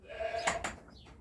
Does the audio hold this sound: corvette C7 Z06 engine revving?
no